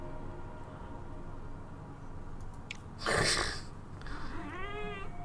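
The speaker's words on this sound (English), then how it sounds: "What are you meowing about?" A cat meows near the end, a rising then falling drawn-out call, preceded by a short sharp sneeze-like burst, over steady low background noise.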